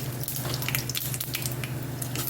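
Close, steady sizzling and crackling of mustard seeds and cumin tempering in hot oil, with irregular little pops throughout and no talking.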